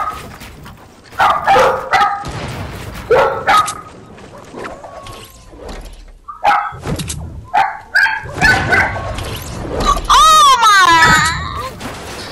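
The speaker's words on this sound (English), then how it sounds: "Is that your dog?" Dog barking in Fortnite, several sharp bursts with whimpering yips scattered among lively player chatter, one rising whine near the end, close and fairly loud under overlapping talk.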